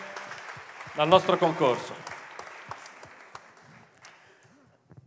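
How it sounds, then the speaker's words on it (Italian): Audience applause fills the final of a regional song contest for Ligurian artists, a steady clatter of many hands running under a presenter's voice through the first few seconds and then tapering off. "Facciamogli un grande applauso"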